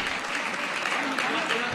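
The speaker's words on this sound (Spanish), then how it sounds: "Pues un aplauso para el Instituto Universidad Laboral de Cáceres." Brief burst of audience applause for the Instituto Universidad Laboral de Cáceres at a geology olympiad award ceremony, dense steady clapping at moderate loudness.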